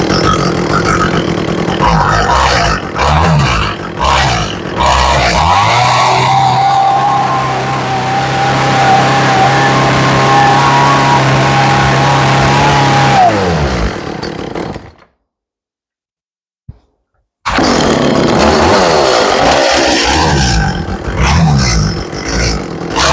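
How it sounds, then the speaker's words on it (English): An Echo CS400 chainsaw revs up loud and high, holds, then drops back to idle before cutting out into brief silence, after which handling and mechanical noises resume close by. "when you rev it up and then it idles down and it stalls"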